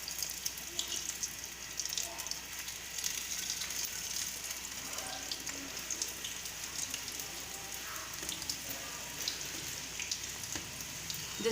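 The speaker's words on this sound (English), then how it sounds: "The oil is hot. I'm frying the samosas." Small Surti patti samosas frying in hot oil, giving a steady, close bubbling sizzle that runs throughout without a break, with no voices heard.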